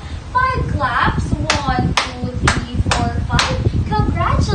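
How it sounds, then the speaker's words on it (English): A classroom of students clapping in unison five times, steady loud claps in a regular rhythm, with children's voices and chatter under and between the beats. "Now give yourself 5 claps."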